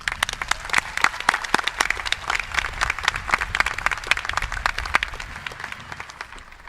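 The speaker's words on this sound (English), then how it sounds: "A round of applause again." Audience at a Boerne High School graduation ceremony applauding, a dense, sustained wash of many hands clapping at a steady level that slowly tapers off.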